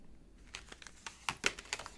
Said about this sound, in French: Je vais prendre le tarot et je vais vous faire un tirage à 9 cartes.